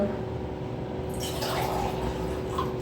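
Water is poured into a pot to make tea, a short splashing gush that rises partway through and runs on under a low steady hum, fairly close by.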